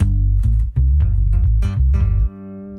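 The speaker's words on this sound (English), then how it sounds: "I can make my bass sound like this." A bass guitar played through a loop pedal thumps out a loud, deep run of plucked notes in a bouncing rhythm, ending on a held, ringing note.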